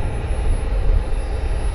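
FMS P-47 Razorback 1500mm RC model warbird flying overhead, its electric motor and propeller giving a steady, fairly loud whirring drone with no speech.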